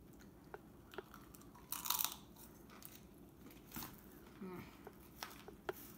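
Crunchy bites and chewing of homemade Dorito-topped mac and cheese, close to the mic, with a loud crunch early on and softer intermittent chewing afterward.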